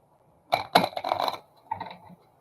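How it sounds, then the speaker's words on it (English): Short clattering of tarot cards being shuffled in two quick bursts, close and fairly loud, no voices. "That was a horrible shuffle."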